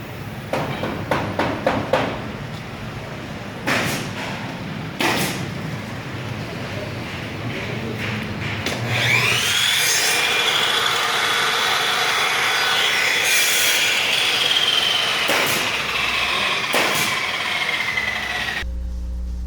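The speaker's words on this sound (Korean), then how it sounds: "일산에 있는 MBC 세트 제작실인데요" Wood is sawn in the MBC set construction workshop in Ilsan, with scattered sharp knocks and clatter giving way to a long, loud, whining power-saw cut with a rising and falling edge, close and busy.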